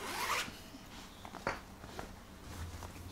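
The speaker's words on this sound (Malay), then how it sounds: "Buka zip." A zipper on a Gaston Luga x Nikon backpack made of recycled polyester with TPU coating is drawn open in a quick rasping pull near the start, followed by softer handling rustles and a few light clicks, close and alone.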